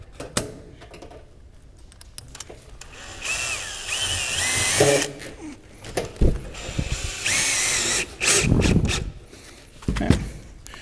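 Power drill driving fasteners into valley trim on a roof, heard as several bursts of whirring and ratcheting with short pauses between them, close and fairly loud.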